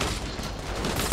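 Fortnite gunfire comes as a brief, dense rattle of shots in a noisy in-game mix that lasts about a second.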